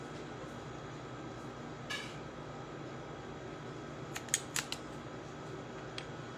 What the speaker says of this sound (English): these are those ratcheting clippers I told you guys about